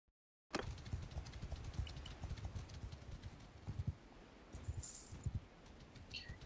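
Horse hooves clip-clop in a steady, continuous rhythm across a battlefield in the video game Mount and Blade II Bannerlord, loud and close over a dense background din.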